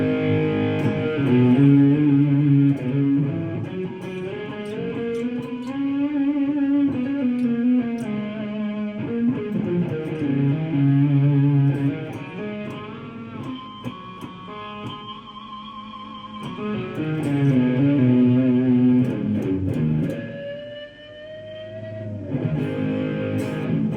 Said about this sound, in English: Let's try a little reverb.